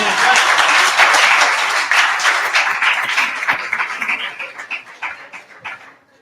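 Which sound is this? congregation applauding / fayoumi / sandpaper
congregation applauding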